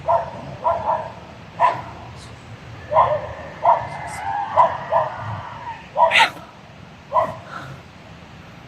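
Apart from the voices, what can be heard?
dog barking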